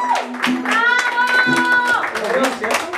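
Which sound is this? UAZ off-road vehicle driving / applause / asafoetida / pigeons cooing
applause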